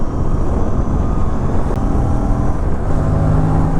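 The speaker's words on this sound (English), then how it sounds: "I'm getting a chance to twist the throttle more than usual while riding in the city" An RS 457 motorcycle engine drones loud and close while riding on empty city roads, a continuous rumbling roar with steady tonal harmonics and no talking.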